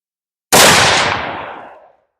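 A single loud gunshot from a firearm test-firing ammunition, one sharp blast followed by a long rolling decay that fades out over about a second and a half, heard alone without talk.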